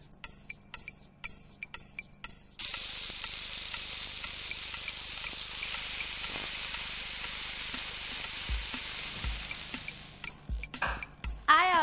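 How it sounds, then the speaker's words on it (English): Pancake batter poured into hot oil in a frying pan bursts into a steady loud sizzle that holds for several seconds, preceded and followed by clinks of utensils and handling sounds. "Put a little oil in a frying pan."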